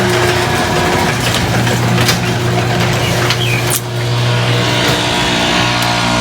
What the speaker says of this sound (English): Sorry for the noise because our neighbor they're cutting the grass.